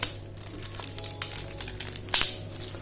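ID printer cards for an Evolis Primacy printer are wrapped tightly in crinkly wrapping material, giving close, irregular crackling and rustling with a louder crumple near the end.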